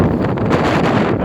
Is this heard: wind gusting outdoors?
yes